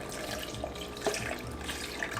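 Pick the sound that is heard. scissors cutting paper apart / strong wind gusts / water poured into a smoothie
water poured into a smoothie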